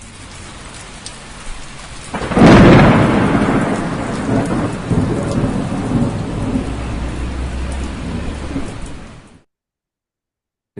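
A thunderstorm with steady rain pouring throughout, broken about two seconds in by a loud, close thunderclap that rolls and rumbles on beneath the rainfall before the sound cuts off abruptly.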